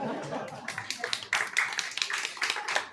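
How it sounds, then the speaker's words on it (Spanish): A small audience at a biodynamic agriculture talk claps briefly for a volunteer, fairly faint, scattered hand claps lasting a few seconds, with a little laughter mixed in. "Un aplauso para él"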